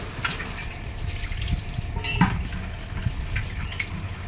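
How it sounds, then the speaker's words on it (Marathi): Morning tap water runs steadily into a household container, making a continuous rushing, splashing flow at close range, with faint voices in the background. "पाणी आलेलं आहे चावीला, त्यामुळे पहिल्यांदा पाणी भरून घेते"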